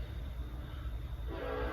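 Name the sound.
train passing nearby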